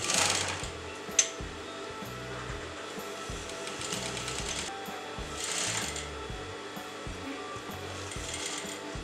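Sewing machine running a back stitch to lock a tassel on a crop top, with a rapid, steady mechanical chatter of close stitching and brief pauses and changes in pace.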